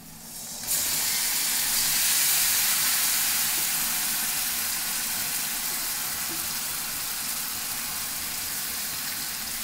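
Chicken tossed into hot oil with chili powder erupts into a loud, steady sizzle that starts abruptly and holds as a broad hiss for the rest of the stretch, with no talking.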